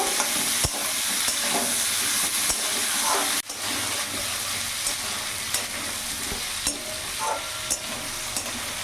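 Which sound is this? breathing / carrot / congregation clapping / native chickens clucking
carrot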